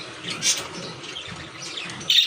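A newly added pet bird with a sore leg squawks from its cage indoors. Two short, sharp calls come about two seconds apart, with faint background noise between them.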